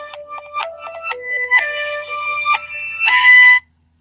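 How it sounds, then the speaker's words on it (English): A phone rings with a loud electronic melodic tone, a run of quick chirping notes repeating for a few seconds before cutting off abruptly, with no voices. "Sorry about that noisy phone."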